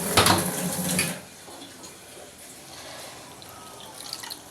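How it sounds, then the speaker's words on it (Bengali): A little water is poured into mango cooking in a pot: about a second of splashing, then quiet simmering with faint clinks. "এবার পরিমাণ মতন একটু জল দেব, একটু জল দিয়ে দেবো।"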